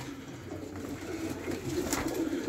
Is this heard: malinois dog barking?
no